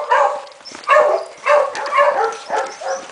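Diablo, a dog at a kennel, lets out a run of close, loud whining yelps in five or six repeated bursts, each a second or so apart.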